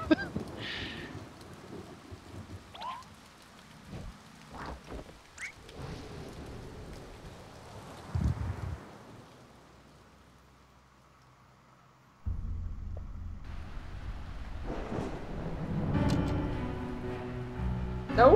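Rain and thunder from the video game A Bird Story: a soft wash of rain with a low rumble swelling midway, then a heavier burst of storm noise near the end, heard faintly with occasional game sounds.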